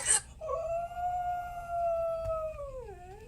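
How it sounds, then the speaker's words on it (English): A dog howls in response to a TV commercial, one long sustained howl that rises and slowly falls, close and fairly loud, with a short sharp noise at the start and a low indoor background. "he used to sit and watch the commercial on the TV and howl to the dogs"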